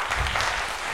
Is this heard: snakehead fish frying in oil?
no